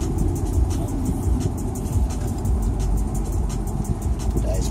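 Steady road rumble and tire noise from a car driving along the Weinstrasse wine road near Viernheim, continuous and fairly loud with a low engine drone throughout.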